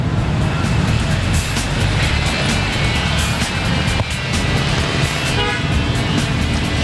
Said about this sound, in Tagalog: Let's take a look at the traffic situation.